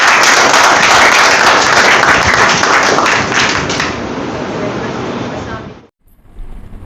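Loud, dense applause from a crowd greets a guest at a goal-setting session hosted in Pakistan. The clapping holds strong for several seconds, fades, and stops abruptly, leaving quiet room sound.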